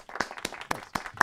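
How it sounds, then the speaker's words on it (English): A few sharp, scattered hand claps greet a performer at a socially distant live show, sparse and close rather than a full crowd roar. "You got a standing ovation from the crowd."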